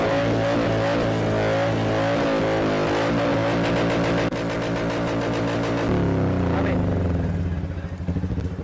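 A Royal Enfield motorcycle with a modified silencer revs loudly and steadily nearby. Its harsh, throaty engine note holds and shifts pitch, and a voice can be heard under it.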